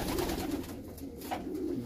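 Tassie racing pigeons, a slate hen among them, coo softly in a loft in short repeated rolling phrases, close and steady, with no voices.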